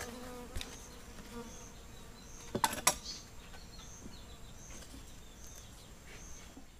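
Boca de renda stingless bees drone steadily around an open hive during a colony split, a close, continuous buzz with a few louder passes as individual bees fly near.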